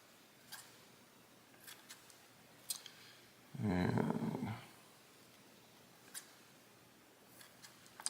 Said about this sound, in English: Again, we're going to cut the tabs off.